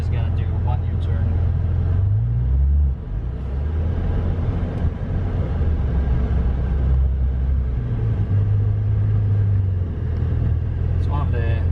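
A 2020 Maserati Levante S SUV makes a tight U-turn near roadside bushes. Its engine gives a steady, low, close rumble that swells slightly partway through the turn and holds throughout.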